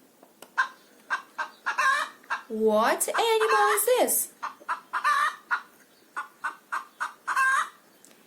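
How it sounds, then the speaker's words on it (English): A chicken clucks in a steady series of short, sharp notes, with one louder drawn-out squawk partway through, and a voice briefly asks a question over it. "It's a chicken."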